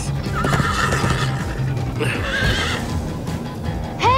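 Horses whinny loudly over a bed of galloping hoofbeats in Minecraft: Story Mode, several neighs rising and falling in quick succession, close and prominent.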